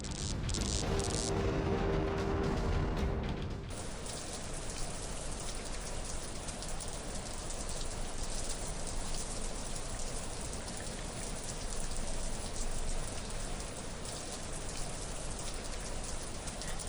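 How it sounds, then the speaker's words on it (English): Steady rain pours down continuously and fairly loudly on a building rooftop, a dense even hiss with a brief rougher patch at the start and no voices. "the weeping rain could also corrode yōkai"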